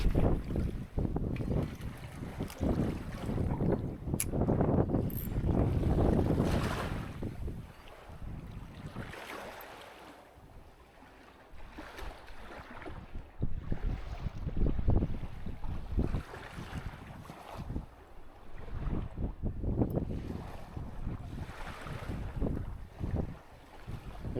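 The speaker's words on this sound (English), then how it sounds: "It is super windy today." Strong gusting wind buffets the microphone on a fishing boat out on the water, loud roaring bursts rising and falling over a steady rush of waves and engine noise.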